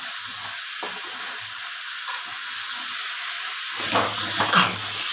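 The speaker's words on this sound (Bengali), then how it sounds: "বেগুনগুলোকে ভাজবো নুন হলুদ দিয়ে" Eggplant slices frying in oil with salt and turmeric give off a steady, close sizzling hiss throughout, with a few soft utensil clinks and stirring noises toward the end.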